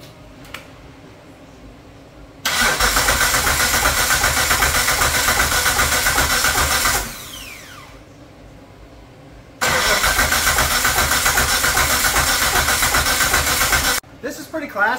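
A Dodge Stealth R/T twin-turbo engine with GTX3576 turbos and a Haltech 2500 drive-by-wire setup cranks on its first start attempt. Two long, loud, close bursts of steady starter churning are separated by a quiet pause, and the engine does not catch.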